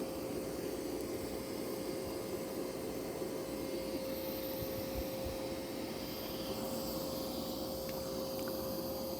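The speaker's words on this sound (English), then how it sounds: "Yeah, this thing's a pretty good vacuum." A Mova V70 Ultra robot vacuum cleaner runs continuously, giving a close, even rushing drone with a steady tonal whine over it and no pauses or talk.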